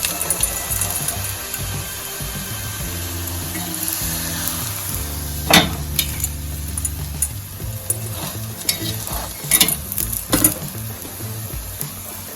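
Masala rotlo flatbread roasting and sizzling on a hot pan, a continuous close frying hiss broken by a few sharp scraping clanks as it is turned and pressed.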